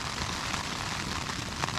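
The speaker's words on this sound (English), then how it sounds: "Oh, rain's picking up again. It's really pouring." Dense, steady hiss of heavy rain pouring onto a hammock tarp overhead at a campsite, continuous and unbroken with no voices.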